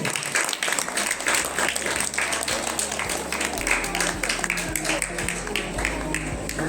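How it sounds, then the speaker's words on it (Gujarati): An audience at a tuition group's fun-fair function breaks into applause, a dense, sustained wash of clapping from many hands that stays loud throughout, with a voice faintly audible underneath. "આપણે સૌ એમને તાળીઓના ગડગડાટથી વધાવશું"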